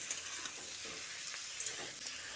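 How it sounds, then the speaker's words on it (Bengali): Mixed vegetables, tomato among them, being stirred and fried in oil in a pan: a soft, steady sizzle with faint scraping stirs, quiet and continuous. "তারপর একটু নেড়ে চেড়ে নিচ্ছি। এইভাবে তেলে সমস্ত সবজিগুলো ভালো করে ভেজে নিতে হবে।"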